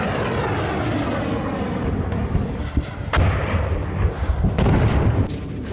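A ballistic missile launched by Houthi fighters from Yemen: a loud, continuous roaring rumble with several sharp, crackling bursts rising toward the end, and no voices.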